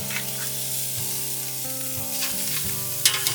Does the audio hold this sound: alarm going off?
no